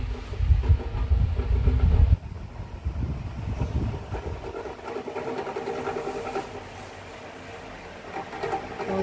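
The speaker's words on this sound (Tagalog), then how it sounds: "ang aking wall fan ay napakaingay na" A noisy electric wall fan runs with a rattling, droning whir, loud at first and then lower and uneven, with no voices over it.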